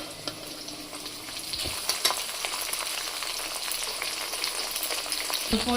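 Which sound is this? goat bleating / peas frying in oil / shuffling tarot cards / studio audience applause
peas frying in oil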